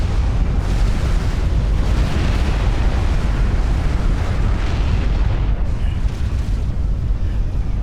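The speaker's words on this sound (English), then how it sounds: "Millenwise runs for it as the Scathis' next volley lands on him. But kaboom" Scathis artillery volley exploding in the real-time strategy game Supreme Commander: Forged Alliance, a dense, continuous roar of booming blasts and rumbling bursts that stays loud throughout without any talk.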